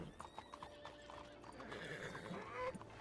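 A horse in the RedM roleplay game clip-clops at a walk with a whinny toward the end, faint and steady in the background of the game's mix.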